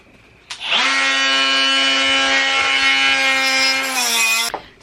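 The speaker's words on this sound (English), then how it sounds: "so now we're grinding it off" An angle grinder cuts into a Track R53 crank pulley with a loud, steady, harsh whine that holds for about four seconds and then stops abruptly.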